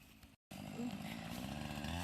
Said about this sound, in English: So today he's using the big Husqvarna saw.